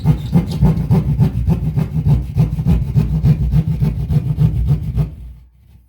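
A handheld sheetrock saw cuts an outlet opening in drywall with rapid, steady back-and-forth strokes, close and loud. The sawing runs for about five seconds, then stops and leaves near silence.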